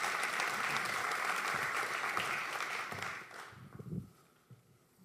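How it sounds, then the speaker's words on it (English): A crowd applauds a keynote speaker at a company event day. The clapping is dense and loud for about three seconds, then fades quickly, leaving a few scattered claps and shuffling. "So I would like a warm applause for Horst Streck."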